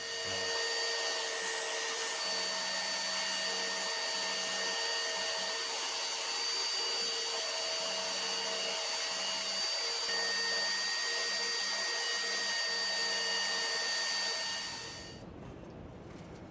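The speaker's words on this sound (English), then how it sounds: "the rest of it I'm going to hit with the flap wheel on a angle grinder" Angle grinder fitted with a flap wheel sanding an old axe head, a steady high whining hiss with faint intermittent scraping, running evenly for about fifteen seconds before cutting off.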